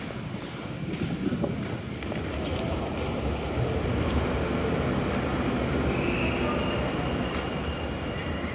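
A train rumbles along its rails from inside the carriage, a steady low roar with occasional clicks and rattles throughout.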